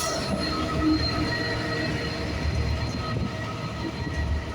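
A Class 66 diesel locomotive hauling an aggregates train rolls past close by, with loud steady wheel rumble, rail noise and high wheel squeal throughout.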